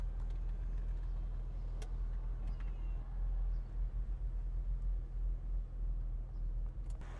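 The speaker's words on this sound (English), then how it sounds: "And here is the engine. You will be able to hear it running." A Porsche 911 Carrera engine idles steadily nearby with a low, even rumble and faint mechanical ticking, no voices.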